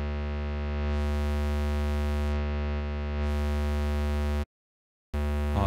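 A synth in Arturia Pigments run through soft clip distortion, a sustained buzzy harmonic-rich tone that swells in brightness twice, cuts off briefly, then resumes.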